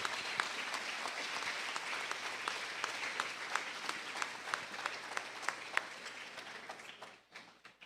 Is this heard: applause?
yes